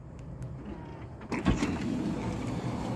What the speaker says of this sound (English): The door opens fine